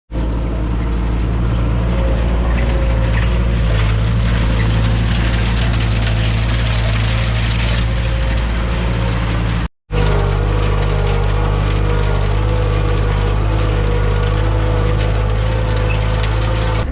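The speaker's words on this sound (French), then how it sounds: "là ce sera le tracteur avec le godet" A farm tractor fitted with a front loader bucket runs loud and close, its engine droning steadily with rough knocking and clattering, briefly cutting out before resuming.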